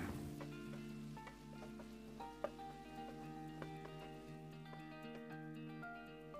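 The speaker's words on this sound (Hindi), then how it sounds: "और इसको फ्राई कर लेंगे हम 3 से 4 मिनट लो फ्लेम पर।" Two small cut potatoes fry in a pan on a low flame, giving a quiet, even sizzle with light crackles and one brief tap midway, with no talking.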